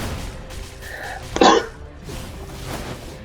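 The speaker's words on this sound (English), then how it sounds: "Now we know how I sneeze." A single sharp sneeze bursts out in the middle, loud and close, with quiet room noise before and after.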